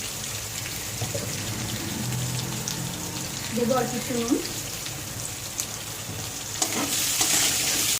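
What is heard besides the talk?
potatoes frying in oil in a pan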